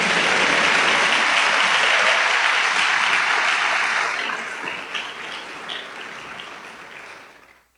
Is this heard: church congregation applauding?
yes